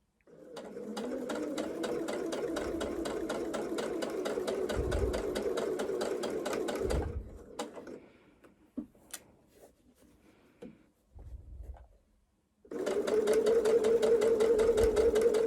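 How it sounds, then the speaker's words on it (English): A sewing machine stitches down a fold line on dungarees in a steady, close whirring run, pauses with scattered handling clicks, then resumes a second loud continuous burst. "I'm going to take this to the machine and I'm going to sew along that fold line"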